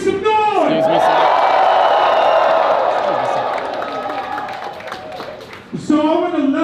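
Crowd cheering, whooping and clapping at a political rally, a loud dense roar sustained for several seconds that fades slightly before a speaker's voice returns near the end.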